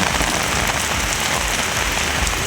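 Heavy rain falls steadily in the city of Trichy, a dense, loud, continuous hiss of drops striking surfaces with no voices.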